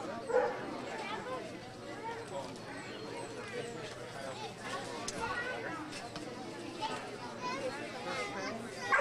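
Dogs at a dog show give a few yips and whimpers amid a noisy crowd, with children playing and people talking nearby.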